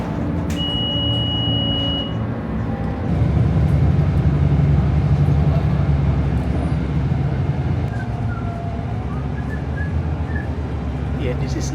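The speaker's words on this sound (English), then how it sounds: "I hear just the music and the vibration of the bus" Steady low rumble and vibration inside a moving bus, with faint music playing over the engine drone; a short electronic beep sounds near the start and the hum swells slightly midway.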